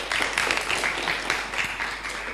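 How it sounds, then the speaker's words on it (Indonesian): Audience clapping at a church discussion and fellowship gathering, a steady wash of many hands at moderate loudness lasting the whole stretch, without pause or talk over it. "Nah kira-kira tepuk tangan dulu ya"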